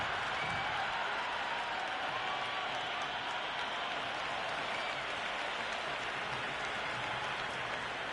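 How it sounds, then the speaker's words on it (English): A stadium crowd in the Cricket 26 video game, at a Karachi Kings versus Peshawar Zalmi match, cheers and roars in a dense, continuous wash that holds level and loud the whole time. "It's evident and ever so audible that the crowd is at near bursting point at today's play."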